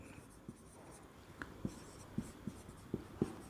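Pen or chalk strokes while writing out a math equation for a metric space proof, a sparse series of short taps and scratches, faint and close, with brief pauses between marks.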